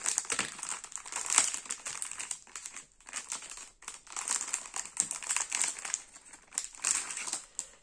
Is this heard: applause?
no